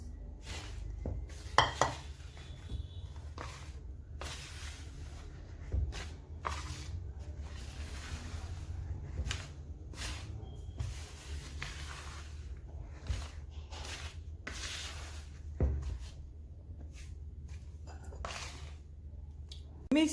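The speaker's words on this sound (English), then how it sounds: "Mix all the dry ingredients together first." Dry ingredients for chin chin being mixed by hand in a bowl, with soft scrapes and intermittent clinks of a utensil against the bowl, a low hum beneath, and occasional quiet speech.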